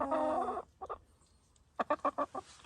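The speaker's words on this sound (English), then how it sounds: "These are our chickens." Backyard chickens cluck in a short burst, then a quick rhythmic run of five clucks, close by with quiet gaps between.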